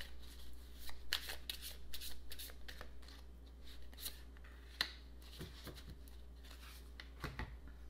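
Playing cards for a reading are shuffled and laid out, giving soft riffling, sliding and light snapping noises in an uneven rhythm, close and fairly quiet.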